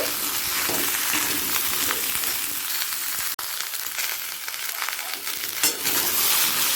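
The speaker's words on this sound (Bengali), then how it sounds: "সবজিটা দু মিনিট ভাজা হয়ে গেছে" Radish, egg and eggplant fry together in a pan for a Bengali pui shak chorchori, giving a steady, loud sizzle with stirring scrapes throughout and one sharp click near the middle.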